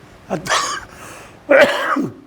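Two harsh, close coughs, about a second apart, each with a rough raspy tail.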